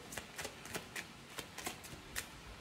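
Oracle cards shuffled by hand in a quiet room, a string of soft crisp riffling flicks and slaps repeating at an uneven pace, close and fairly faint, with no talking.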